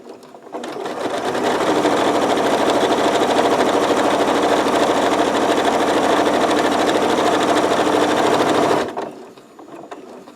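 A sewing machine runs close and loud in one steady, continuous stitching burst of about eight seconds while sewing a zippered pouch, starting and stopping abruptly.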